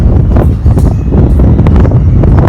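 Strong gusting wind before rain rumbles across an outdoor microphone, loud and continuous with deep buffeting throughout and no clear talk.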